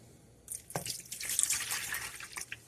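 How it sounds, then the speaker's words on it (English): Warm water poured from a tap or jug into a bowl to proof active dry yeast with sugar, a steady splashing trickle starting after a short pause and running on, close and moderately loud with no talking. "we need 1 cup of warm water"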